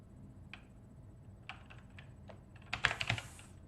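Bursts of typing on a computer keyboard during space sim game development, scattered single key taps at first, then a quick cluster of louder clacks near the end, close and alone.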